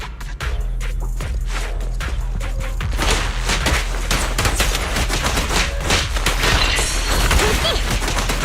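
Sustained rapid gunfire from the video game Zenless Zone Zero, a dense continuous volley of shots with low booming thumps, loud and close throughout without pause.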